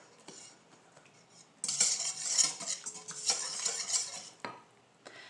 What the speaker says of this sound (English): and mix it all up. Yes, use a wire whisk.